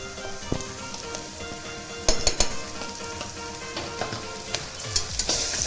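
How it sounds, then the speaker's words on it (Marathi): Onions sizzle and fry steadily in hot oil with ginger-garlic paste, with a few sharper crackles and stirring scrapes partway through, close and continuous. "छान असं परतायचं आहे तेलामध्ये."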